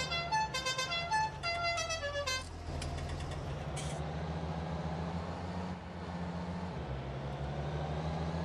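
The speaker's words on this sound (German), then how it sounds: "Die hat noch die bessere Hupe." Horn honking from a farm vehicle in Farming Simulator 2019, heard as a few sharp repeated toots at the start over a steady engine drone that continues afterward.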